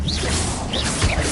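A Confringo blasting spell cast in Hogwarts Legacy, a short burst of whooshing, crackling magical energy with a sharp impact thud near the end, loud and up close with no voices.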